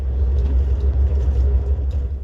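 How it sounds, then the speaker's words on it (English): Neighbouring train rolling past a stationary Amtrak train at a station, a loud close low rumble that holds steady throughout with no talk. "Oh wait, that's the train next to us."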